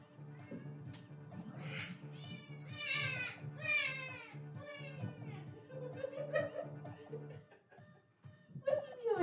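House cat meowing repeatedly at close range in a run of drawn-out, rising and falling calls, with a person talking quietly underneath and a low steady hum in the background.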